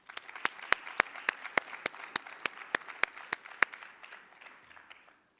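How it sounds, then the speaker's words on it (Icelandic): Clapping at a local sports awards ceremony, a handful of sharp, evenly spaced claps close to the microphone over a faint wash of crowd applause that fades out near the end. "Gefum henni gott klapp."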